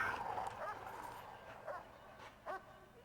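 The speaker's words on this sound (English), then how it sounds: "Ed Newell, mauled by guard dog, because their owner was taken out." A guard dog in the prison-management game Prison Architect gives several short yipping barks spread across the moment, fairly quiet against a soft wash of game ambience.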